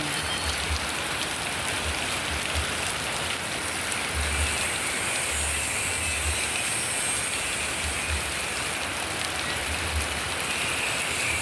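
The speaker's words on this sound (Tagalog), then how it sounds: "Puro ulan po dito, walang" Heavy rain from Typhoon Kristin in Ilocos pours down continuously as a dense, even hiss, loud and steady with no wind, and faint low rumbles pulse underneath.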